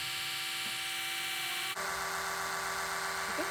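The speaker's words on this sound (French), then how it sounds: "Ma brosse à dents électrique." An electric toothbrush used to shake pollen from potted tomato flowers on a terrace, a close, steady high-pitched buzz that shifts to a harsher tone partway through as the brush head presses against the plant.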